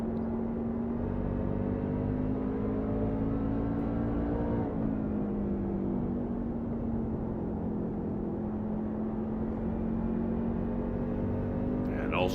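NSR truck engine held at steady racing revs during the Clean Harbors 250, a continuous droning whine with a smooth pitch that dips slightly midway, loud and unbroken throughout, with a commentator's voice faintly underneath.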